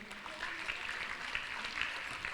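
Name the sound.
applause from audience at opening ceremony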